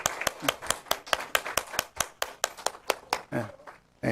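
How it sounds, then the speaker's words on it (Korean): Church congregation at an Easter Sunday service clapping for the Sunday school children, a steady, fairly quick run of sharp claps that fades out near the end, with a voice briefly audible. "우리 주일학교 아이들을 위해서 박수 한번 쳐주시기 바랍니다"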